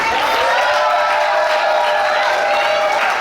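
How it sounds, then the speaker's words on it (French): Applause and cheering from guests at a civil wedding ceremony, a steady dense wash of clapping that stays loud and continuous throughout. "sous vos applaudissements"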